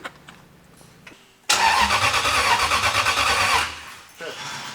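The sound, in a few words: engine cranking and starting in off-road race car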